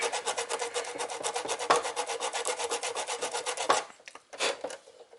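Rapid back-and-forth rasping of sandpaper over a hard plastic toy blaster, steady and close, pausing briefly near the end before a few more strokes.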